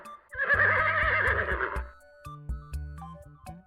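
A horse gives one loud, wavering neigh lasting over a second, followed by quieter background tones and light clip-clop-like sounds.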